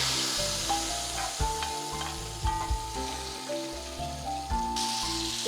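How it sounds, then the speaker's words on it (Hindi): Tadka of cumin seeds and curry leaves sizzles hard in hot oil for a kadhi, a loud steady crackling fry with sharp popping bursts throughout, no voices. "चलिए इसमें अब हम तड़का लगाते हैं।"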